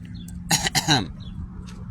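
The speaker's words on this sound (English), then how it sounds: "I gotta clear my throat again." A person clears their throat twice in quick, harsh bursts, close and fairly loud, with quiet room tone before and after.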